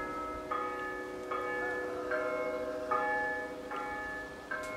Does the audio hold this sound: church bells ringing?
yes